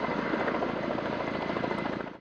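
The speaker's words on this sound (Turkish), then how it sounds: "Yangın söndürme helikopteri ise müdahalesini sürdürdü." A firefighting helicopter flies over a forest fire in Samsun, its rotor and engine roar loud and steady throughout before cutting off abruptly at the end.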